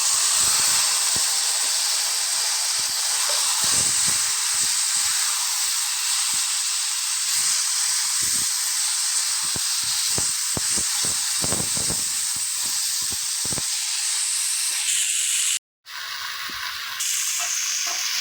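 Taro leaves hit hot oil in a pan seasoned with cumin powder, setting off a loud, steady sizzling hiss that carries on nonstop. A brief dropout comes near the end before the frying resumes. No voices are present.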